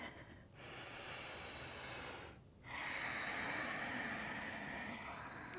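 Slow, steady breaths drawn during a strong vinyasa yoga flow with blocks, two long airy breaths with a short pause between them, close and fairly soft, no talking.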